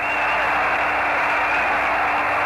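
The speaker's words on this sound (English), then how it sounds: "And this crowd starts to yell again." A huge football crowd at a Minnesota Vikings home game against Washington roars and yells in a dense, sustained wall of noise with no break.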